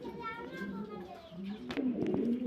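Mundian pigeons coo in a loft, soft throaty calls repeating close by over someone talking and faint children's voices in the background.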